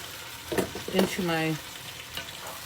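Cottage cheese perogies frying in a pan with fried onions give a steady, soft sizzle that runs through the whole stretch, with a brief voice-like tone rising over it near the middle.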